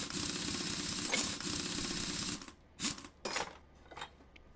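Car brake parts being loosened in a video game, a dense metallic ratcheting that grinds continuously, then breaks into three or four short separate clanks near the end, fairly quiet and with no talking.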